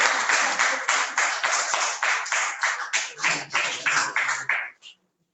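Applause from an audience at an entrepreneurs' master class panel, a burst of hand clapping about five seconds long that thins into a few last claps and stops.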